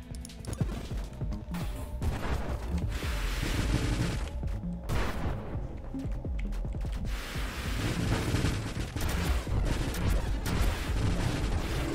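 Rapid shooting in the space game Nova Drift forms a dense, continuous barrage of blasts and crashing impacts, loud and busy with no pauses across the whole stretch.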